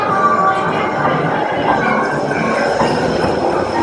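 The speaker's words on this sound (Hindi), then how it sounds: "ये थी टोक्यो डिज़नी सी की इलेक्ट्रिक रेलवे।" Tokyo DisneySea electric railway train rolling past close by, a steady rumbling wash of wheels and carriage noise with faint clatter running throughout.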